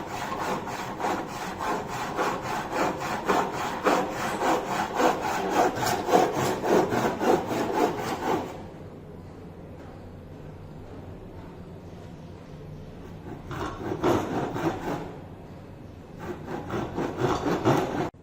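A hand saw cuts a wooden workpiece in a carpentry workshop, producing steady rhythmic back-and-forth rasping strokes up close, stopping for several seconds before a few more strokes resume.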